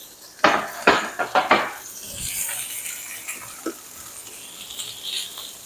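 A frying pan being lifted off a stovetop in a home kitchen: a quick burst of clanking metal knocks and scrapes up close, then quieter rustling and a single small clink.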